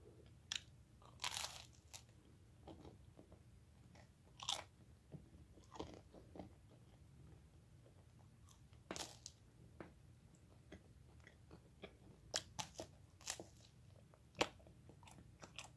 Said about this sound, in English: It's the crunch.